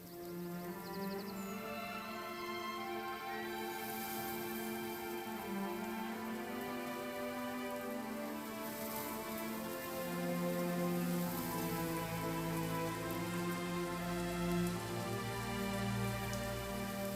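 Steady rain, with a rising gust of wind partway through, in the medieval city-building game Manor Lords, layered under soft sustained game music, with no voices.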